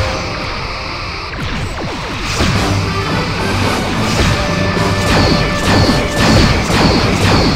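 An enemy starship blows apart in the space combat game Star Trek Bridge Commander, with a loud, sustained crashing explosion made of many overlapping debris impacts and rumbles, building in intensity and continuing to the end without any speech.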